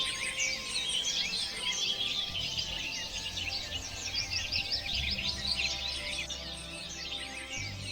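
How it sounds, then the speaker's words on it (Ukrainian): Several birds sing and chirp continuously, bright overlapping twittering calls with a faint low rumble underneath and no talking. "Так, це спів пташок."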